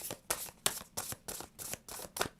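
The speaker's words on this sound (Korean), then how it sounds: "오늘은 카드들을요, 무작위로 좀 뽑고 있어요. 좀 섞고," Tarot cards being shuffled by hand in a quiet room, about seven quick papery riffles in an even rhythm, close and soft, with no voice over them.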